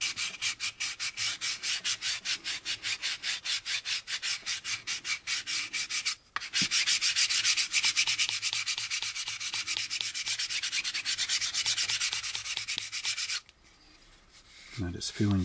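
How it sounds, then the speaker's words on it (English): Sandpaper rubs back and forth over a seam on an AMT U.S.S. Enterprise plastic model kit part, a close, steady rapid scratching rhythm that pauses briefly near the middle and fades out near the end. "sand it down to the height of the lowest point"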